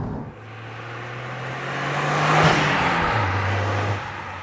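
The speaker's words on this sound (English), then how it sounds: "So I've been driving the car now for about half an hour or so." A Toyota GR Yaris engine hums steadily while driving, its pitch climbing gradually, then briefly swelling as a car passes before settling to a lower drone, heard alone with no talk.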